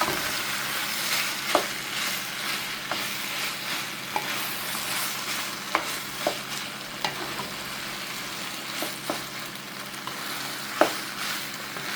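Rotini pasta stirred in a frying pan, a spoon scraping and clacking in irregular taps over a steady low sizzle, close and alone with no talk.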